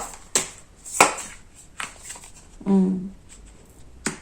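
Tarot cards are shuffled for a reading: several sharp riffling bursts and card slaps spaced a second or so apart, close and clear, with a brief hum-like sound in between.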